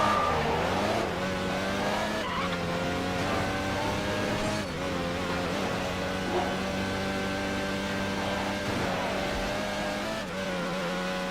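Engine roar from cars racing through San Diego in the video game Midnight Club 3: DUB Edition, loud and continuous with shifting revs, gear changes and occasional tire squeal throughout.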